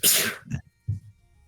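A single sharp sneeze bursts out, followed by a short breathy pause and a soft low vocal sound.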